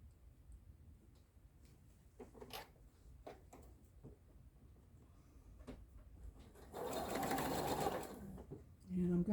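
A sewing machine stitches a quarter-inch seam on a pieced star quilt block. Quiet handling clicks and a talking voice come first, then a steady close-up run of stitching lasts about two seconds and restarts briefly at the end.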